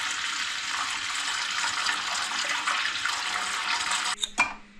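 Water pours steadily into a sauna stove's newly added water tank during a leak test, a broad continuous rushing fill that stops abruptly near the end with a couple of knocks.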